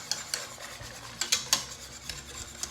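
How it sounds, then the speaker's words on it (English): Butterscotch pie filling stirred in a pot with a rubber spatula, giving a series of distinct scraping strokes against the pot in an uneven rhythm, close and fairly clear with no talk. "I need to be stirring this with a rubber"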